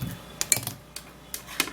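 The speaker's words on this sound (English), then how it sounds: "I'll be cutting just a little bit of cucumber." Knife slicing through a cucumber on a board, a few sharp, separate taps and clicks spaced apart, close and fairly quiet.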